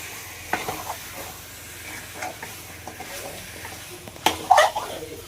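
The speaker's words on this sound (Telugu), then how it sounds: "కలిపే చూద్దాం బాగా" A spoon stirs chicken curry in a pan over soft frying sizzle, with scattered scraping knocks and a louder clatter near the end, no voices.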